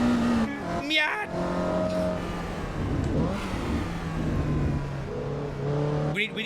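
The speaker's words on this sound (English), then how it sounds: "We need the default Miata sound effect." Mazda Miata engine revving in the Assetto Corsa EVO racing game, a mid-pitched rising and falling drone under someone talking and exclaiming.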